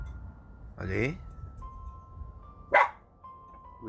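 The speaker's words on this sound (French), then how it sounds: "ça c'est que je reconnais l'aboiement de Olaf" Olaf the dog gives two separate barks, close by, with a thin steady tone running faintly underneath between them.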